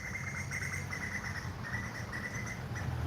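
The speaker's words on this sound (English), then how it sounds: "Listen to those birds." Bird chirps repeat in quick bursts over a constant hiss of background noise, fairly faint and distant, in Phala, Ban Chang, Rayong, Thailand.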